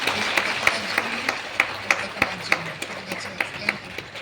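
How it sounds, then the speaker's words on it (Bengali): A church congregation claps for a newly ordained pastor, a sparse, uneven patter of individual hand claps spread across the room rather than a dense ovation, with a faint murmur underneath. "তার জন্য আমরা হাততালি দিই।"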